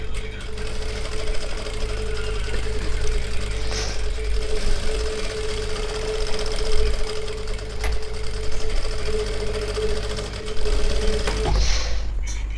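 A sewing machine stitches fabric along chalk markings with a loud, steady, continuous mechanical hum and rapid needle chatter that runs throughout, ending with a brief shift near the end.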